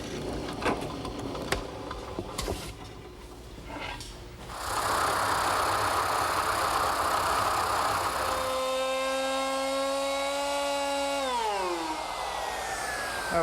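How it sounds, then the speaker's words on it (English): A woodworking router with a 3/4 inch radius bit whines steadily as it eases the front edge of a rocking chair seat, coming in after some quiet handling noises and then dropping in pitch as it spins down. "here I'm using a 3/4 inch radius router bit to ease the front of the seat"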